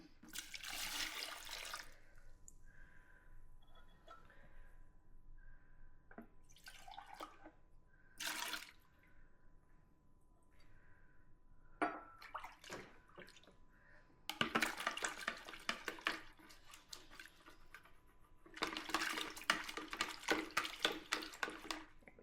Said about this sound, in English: So I'll go ahead and put it in this pitcher so that we can grab the last of that honey